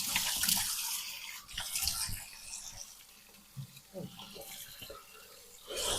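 Tap water runs into a sink while something is rinsed off, a continuous splashing rush that shifts as the stream is broken up, with a voice faintly audible alongside.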